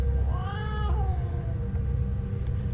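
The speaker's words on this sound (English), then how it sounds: "a cat springs past me, growling" A cat lets out a loud, close snarling yowl that rises and wavers for under a second, then fades into a steady low background rumble.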